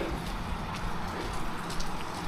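Steady rain falls outdoors on an early walk to town in Innisfail, Australia, a continuous dense hiss with soft scattered drops pattering on surfaces, even and unbroken throughout.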